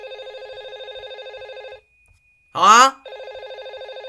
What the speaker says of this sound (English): Using a phone that's not connected to the electricity.